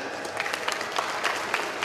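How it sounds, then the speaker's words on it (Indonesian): Audience applause at a Jakarta marketing event, a steady dense clapping crowd filling the whole stretch at moderate level with slight swells. "silakan tepuk tangan"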